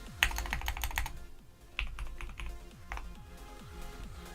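Soft, quick keystrokes on a computer keyboard come in short bursts with brief pauses, heard quietly over a faint electronic whine.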